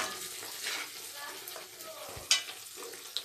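Boiled masoor lentils stirred in a frying pan with drumsticks, a low sizzle under soft scraping stirs and two sharp spoon knocks against the pan.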